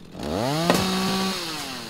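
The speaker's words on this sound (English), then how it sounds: "Chainsaw sounds awesome, by the way." Chainsaw in the video game Rising World, a loud, close engine whine that revs up in pitch, holds steady briefly, then drops away, heard alone.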